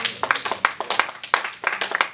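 A church congregation clapping in a lively irregular rhythm, many sharp nearby claps in quick bursts, with faint voices underneath.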